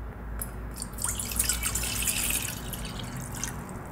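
Two cups of water poured into a vessel while making lemon juice give a close, steady splashing trickle with bright, dripping detail throughout and no speech.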